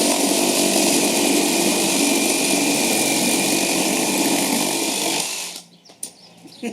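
A second-generation Makita 40v cordless reciprocating saw cuts with a loud, steady, close motor buzz for about five seconds. It then cuts off abruptly into near quiet with a few faint knocks.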